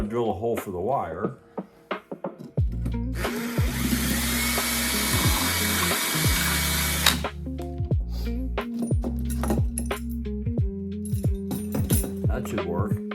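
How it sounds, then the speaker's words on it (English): A power drill bores through a wooden 2x4 for a wire run in a DIY truck camper build, a loud continuous whine of several seconds, with scattered clinks and someone talking before and after. "Now to drill a hole for the wire."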